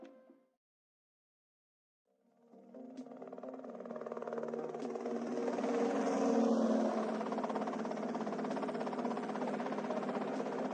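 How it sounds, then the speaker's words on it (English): Helicopter in the video game GTA Vice City, a rotor and engine drone fading in after a brief silence and building to a steady, loud hum that holds to the end. "Okay, that's them in the chopper."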